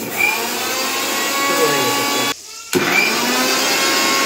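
An electric grinder grinds fried cumin and ginger into a spice paste, a loud continuous motor whine that cuts out briefly partway through before starting again.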